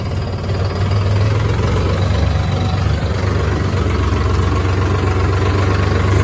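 Tractor engine idling steadily at close range, a loud continuous low rumble with a chugging knock that never changes pace throughout, and no voices over it.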